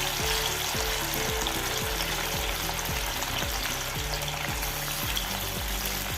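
Anchovies frying in hot oil in a pan on a gas stove give a loud, steady sizzle and crackle that runs the whole time, close by, with no voices.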